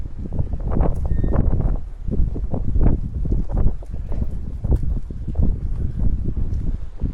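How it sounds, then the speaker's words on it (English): Strong wind gusts through a narrow passage at the harbour in Port de Pollença, producing steady low buffeting and rumbling against the microphone in uneven surges, with no voices. "It's like a wind tunnel through here."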